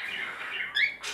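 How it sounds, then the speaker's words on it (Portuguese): Ringneck parakeet chicks, about two months old, give a short run of high, thin chirps at close range, with a brief rising squeak partway through and no talking. "esse aqui é o ringneck, também é conhecido como periquito de colar."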